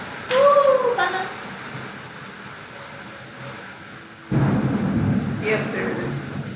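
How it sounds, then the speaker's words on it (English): A thunderclap rumbles in during a rainstorm, a low broad roar swelling loudly midway and lingering, following earlier voice-like chirps and a steady rain hiss. "Woo, thunder."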